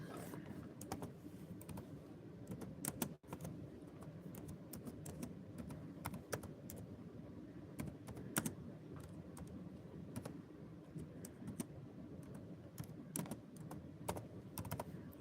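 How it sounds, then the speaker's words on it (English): Quick, uneven keystrokes on a computer keyboard tapped out with one hand, soft and close, clicking steadily over a low room hum with a few louder taps. "I'm typing with one hand."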